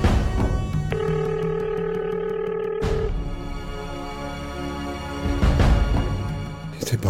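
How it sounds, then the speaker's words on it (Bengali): A phone rings unanswered, its ringback tone sounding as steady electronic tones over a dense dramatic background score for several seconds. "বৃষ্টি ফোন ধরছো না কেন?"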